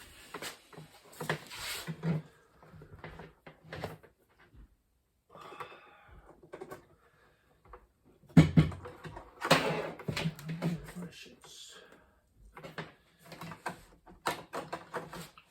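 An Apple ImageWriter printer and its cable are handled and set up beside a Macintosh 128K computer: scattered clunks, knocks and rattles of a heavy machine being moved, broken by quiet gaps.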